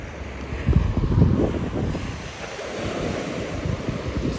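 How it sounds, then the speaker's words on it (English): Rough surf on a Sanibel beach crashes and rolls in, a loud continuous rumbling wash of waves with heavy wind buffeting the microphone. "the surf is pretty rough"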